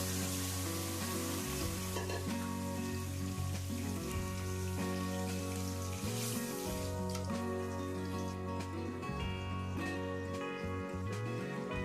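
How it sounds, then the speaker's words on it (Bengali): Dried chillies, panch phoron five-spice, garam masala and ginger fry in hot oil before lentils are added, giving a steady soft sizzle beneath prominent background music throughout. "তেল ভালো মতো গরম হলে এর মধ্যে শুকনা মরিচ, পাঁচফোড়ন, গরম মশলা ও আদা দিয়ে একটু ভেজে তার মধ্যে ডাল ছেড়ে দিলাম।"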